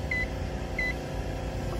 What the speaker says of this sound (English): It's going to beep to tell you that your mini OBD2 is still in there.